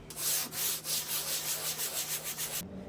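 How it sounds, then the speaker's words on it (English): A sander smooths the surface of a painted vintage dresser, rasping in quick rhythmic back-and-forth strokes, close and steady, then cutting off abruptly near the end. "then just go over it gently with a sander and then wipe it clean to remove any dust"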